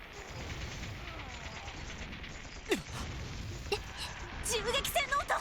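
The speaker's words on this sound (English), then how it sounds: "Gunfire? What could be happening?" Sharp gunshots crack intermittently over a low background hum in the video game Trails to Azure, a few single shots followed by a quicker cluster near the end.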